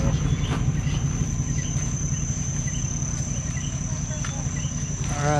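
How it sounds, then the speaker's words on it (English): Night creatures at a tropical bay on Vieques, with a steady chorus of crickets or frogs and a constant high insect whine, plus a few faint calls and a brief voice near the end. "All kinds of cool noises. Got frogs and different things here."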